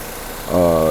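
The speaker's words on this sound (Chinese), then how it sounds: "来看这个怠速是相当稳定的啊" A Mercedes-Benz S124 230E engine starts idling steadily about halfway through after a fuel distributor repair, a low even hum with harmonic drone, preceded by quieter background noise.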